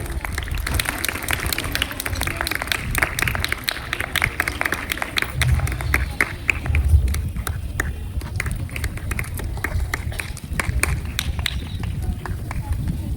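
Applause from an audience at an academic-year inauguration ceremony, honouring the staff. The dense clapping runs steadily and loudly throughout, with voices mixed in over it.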